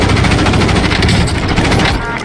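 Loud, dense gunfire in a Call of Duty Warzone match, with continuous overlapping rapid shots and crackling bursts filling the whole moment at close range.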